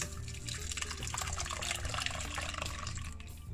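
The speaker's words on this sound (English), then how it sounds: "We're gonna strain it, pour it out," Liquid from a homemade healthy drink streams steadily through a strainer into a container, a continuous close splashing pour lasting the whole moment with no talking.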